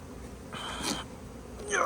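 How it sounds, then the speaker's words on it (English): Honeybees from a hive crowded with bees back from almond pollination, a soft steady buzzing drone at close range, with a brighter hum swelling midway and again near the end. "Lots of activity, just bees are packed."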